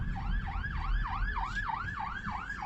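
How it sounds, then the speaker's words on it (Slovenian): Ambulance siren wailing in a repeating rising-and-falling pattern as the vehicle passes on the road, loud and close over a steady low rumble of traffic and car noise, with no voices. "Shit, rešilc, umakne se."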